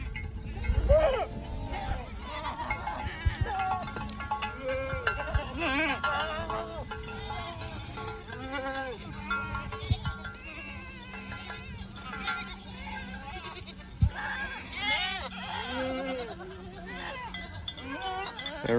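A herd of goats on a farm bleats repeatedly, with many overlapping calls near and far over a steady background, along with occasional clanks and a voice talking at times.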